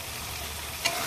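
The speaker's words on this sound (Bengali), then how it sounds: "এখন মশলাটা একটু সুন্দর করে কষিয়ে নেব।" Chicken masala sizzles steadily in a pan, a continuous broadband frying hiss with one brief louder scrape of stirring near the end.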